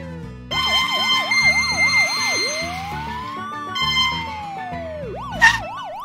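An animated fire truck's siren wails loudly, first in a fast yelping cycle, then a slow rising and falling sweep, then fast yelps again, over a bouncy musical backing with no talking.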